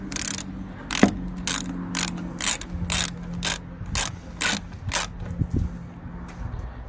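10mm ratchet loosening a bolt on a 2013 Chrysler 200 during grille replacement, a steady series of sharp close clicking bursts repeating in an even rhythm, about a dozen strokes.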